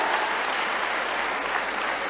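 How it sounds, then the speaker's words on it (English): At a school annual day celebration, a big audience gives a round of applause, a steady, dense hiss of many clapping hands at fairly high volume, unbroken and without voices. "Should we give them a big round of applause?"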